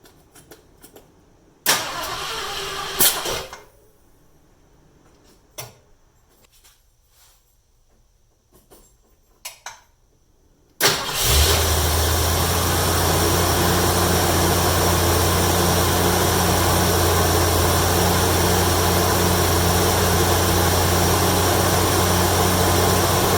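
A 1972 Mercury Comet V8 being cranked after its spark plug wires were rearranged: scattered clicks and clunks, then the engine catches and settles into a loud, steady idle rumble that runs to the end.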